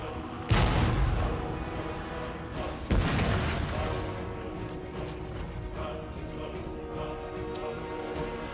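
Units firing in Warhammer 2, a multiplayer battle game: two loud booming volleys a couple of seconds apart ring out over a dense wash of battle noise, with someone talking underneath.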